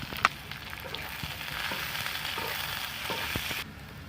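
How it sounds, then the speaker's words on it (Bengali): Chopped onion, ginger and chili fry in a pan for chicken patties, a continuous soft sizzle with occasional light stirring knocks that stops abruptly near the end. "আদা কুচি তো ভালো করে আমরা এটা একটু নেড়ে নেব তো আমরা পেঁয়াজ কুচিটা দিয়ে দিলাম"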